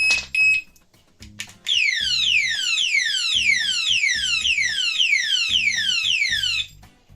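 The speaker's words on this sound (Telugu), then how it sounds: "ఓకే, అలారం లాక్ అయితే ఆన్ అయిపోయింది." A Meesho alarm lock gadget blares a loud, rapidly repeating descending siren wail that runs for several seconds and then cuts off, preceded by a few short beeps and handling clicks.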